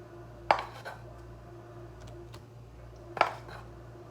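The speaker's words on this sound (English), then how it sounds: "You're gonna want to take your cheese sauce off, give it a little stir." Spoon stirring cheese sauce in a pot, two distinct metallic clanks against the pot a few seconds apart over a low steady kitchen hum.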